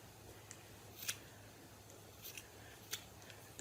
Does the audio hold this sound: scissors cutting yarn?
yes